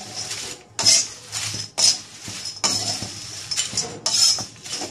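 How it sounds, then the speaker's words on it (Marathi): An onion being roasted and stirred in a pan for a black onion-garlic masala, with a spoon scraping and clinking against the metal in repeated bursts over a low background. "कांदा जो आहे तो आपल्याला छान असा ब्राऊन होईपर्यंत भाजून घ्यायचा आहे"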